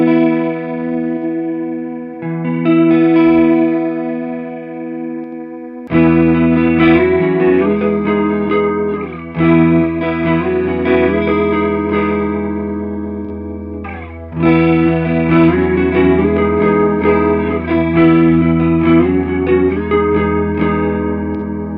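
Electric guitar played through a Fender Hammertone Chorus pedal, its shimmering, modulated chords and riffs ringing out alone for over twenty seconds, a quieter opening phrase before fuller, louder strummed passages with brief pauses between.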